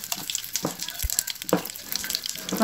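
Curry leaves drop into hot butter with mustard seeds and black gram, making a dense, close, continuous sizzle and crackle with scattered pops throughout.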